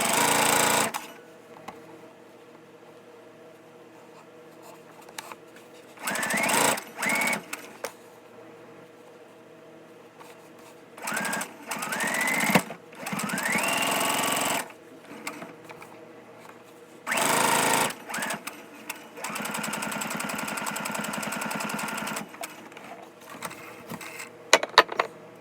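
A sewing machine stitches a fabric mask in repeated bursts of fast, loud mechanical whirring and chattering, each lasting one to three seconds, separated by quieter pauses with faint handling sounds, heard up close without talk.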